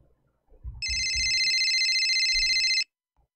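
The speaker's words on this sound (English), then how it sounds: "I'm calling his private cell phone." An outgoing call to a cell phone rings with a single steady electronic ring tone lasting about two seconds, clear and close, with faint handling noise around it.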